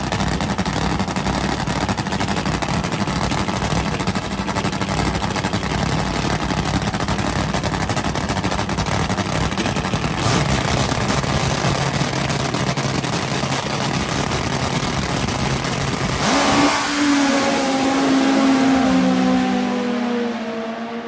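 Top fuel drag racing motorcycles roar down the strip in a loud, sustained, crackling engine blast that runs for about 16 seconds. A sharp shift follows as the bikes pass and fade, with a lower droning tone trailing off.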